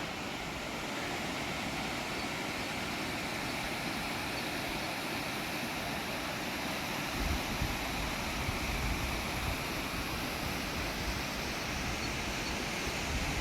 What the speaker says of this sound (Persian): این های آبشار خوشگل